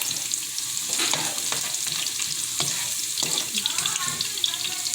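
Chicken taco mixture sizzles steadily in a frying pan, a close, continuous crackling hiss with occasional scraping and stirring knocks throughout.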